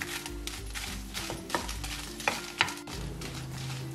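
Dry red chillies frying in oil in a pan for chutney powder, a steady sizzle with a spoon stirring and scraping in several sharp strokes over a low hum, close and moderately loud, no voices.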